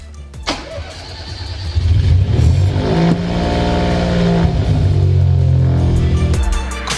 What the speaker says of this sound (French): Chers amis, pour vous, on va la démarrer.